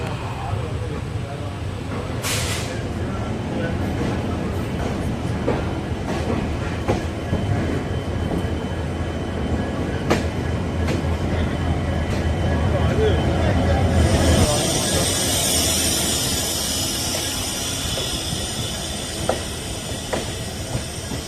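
A passenger train hauled by WAP 7 electric locomotives pulls out of Erode Junction, its wheels rumbling and clattering steadily and close, with sharp clanks at intervals, a rising hiss later on and voices talking faintly beneath.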